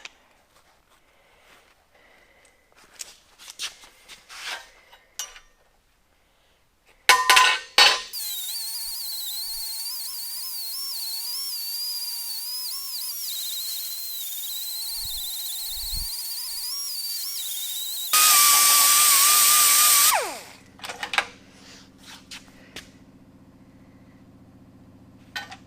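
A power tool fitted with a Scotch-Brite pad finishing welded steel tubing on a welding cart built from a Harbor Freight end cabinet, heard as a steady high whine lasting about thirteen seconds, with scattered clatter before it and a louder rasping burst near the end.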